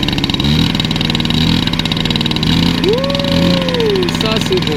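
A rebuilt liquid-cooled Peugeot 103 RCX LC moped engine runs with its rear wheel raised, buzzing steadily and then revving up in a rising whine before settling, while someone speaks French over it.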